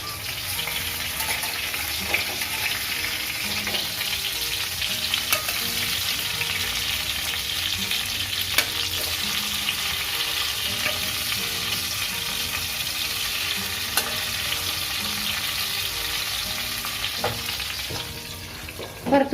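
Stuffed brinjals sauté in a covered pan over a low gas flame, giving a steady close sizzle and fry crackle with occasional scraping stirs throughout, no voices.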